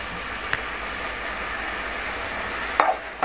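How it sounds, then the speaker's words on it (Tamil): Tomato, onion and turkey berries sautéing in oil make a steady soft sizzle, with a few brief scraping stirs near the end. "இந்த தக்காளி, இந்த வெங்காயம், இந்த சுண்டை வெத்தை எல்லாமே இந்த எண்ணெயில் கொஞ்சம் நல்லா வதங்கணும்"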